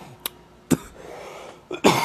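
Several short coughs, a couple of sharp hacks spaced apart followed by a heavier cough at the end, close by.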